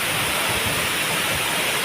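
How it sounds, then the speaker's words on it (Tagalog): Ulan waterfall in Almeria, Biliran, Philippines, a loud, steady, broadband roar of falling water heard close up with no talk. "we're now to Ulan waterfall."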